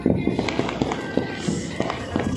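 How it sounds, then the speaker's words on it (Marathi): Firecrackers bursting repeatedly during a New Year's Eve celebration in Wardha, sharp pops and crackles in quick irregular succession, fairly close, with voices talking over them. "बघा बघा बघा किती फटाके फुटत आहे."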